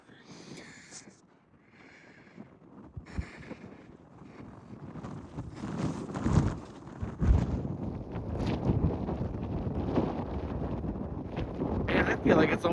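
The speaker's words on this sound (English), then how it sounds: "Man, I feel like it's almost a little windier now. Is it windier now?" Gusty wind buffets the microphone on a desert trail in Arches National Park's Devil's Garden, a rough, rumbling roar that builds and stays strong, with people talking faintly at the start.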